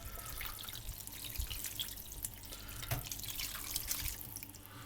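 Tap water running and splashing while a pan is washed in a kitchen sink, a faint steady patter with a few drips and clinks.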